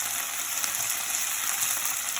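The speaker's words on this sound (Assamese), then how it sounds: "এনেধৰণে অলপ সময় ভাজিব লাগিব" Mint leaves frying in a pan for a mint and coriander leaf pickle give a steady, close, even sizzle with no breaks and no talking.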